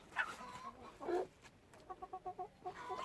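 Quiet clucking from chickens and chicks nearby, a few soft calls followed by a quick series of rhythmic clucks, faint and close.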